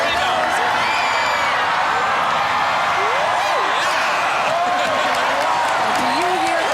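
Crowd cheering and whooping along a parade route at the 1989 Rose Parade as a skier descends a ski-jump float, a steady dense roar with rising whistles and shouts, people talking nearby.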